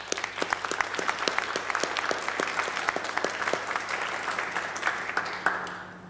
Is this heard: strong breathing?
no